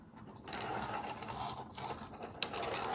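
Small gears turn inside a model aircraft gearbox, freshly lubricated with a few drops of vegetable oil, giving a steady close-up mechanical whir with faint ratcheting clicks and one sharp tick near the end.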